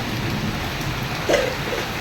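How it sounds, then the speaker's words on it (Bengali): Moderate morning rain falls in a steady, close hiss that barely changes, with one short, low thump partway through and no voices. "সকাল সকাল বৃষ্টি শুরু হয়ে গেছে"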